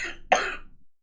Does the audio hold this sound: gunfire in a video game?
no